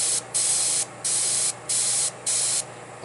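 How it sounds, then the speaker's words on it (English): Airbrush spraying paint in several short, even bursts of close, steady hiss, each lasting about half a second and separated by brief quieter gaps, with no talk. "with the airbrush,"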